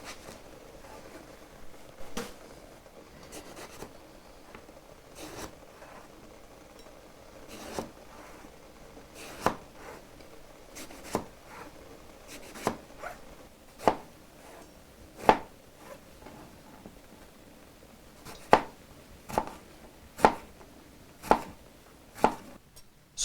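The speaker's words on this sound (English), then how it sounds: "I like to cut the eggplant into 1/4 inch pieces." A kitchen knife chops eggplant into quarter-inch pieces on a cutting board, with crisp, evenly spaced strikes that grow louder and quicker toward the end over a quiet room, with no talking.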